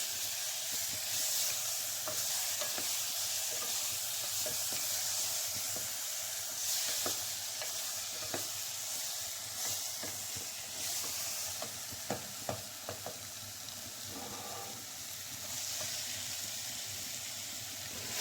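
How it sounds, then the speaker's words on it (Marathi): Stuffed brinjal and leftover masala sizzle as they are fried in oil, with a steady close frying hiss and repeated scraping and clacking stirs in the pan. "हलक्या हाताने वांगी आणि उरलेला हा जो मसाला आहे तो तेलावर छान परतून घ्यायचा आहे."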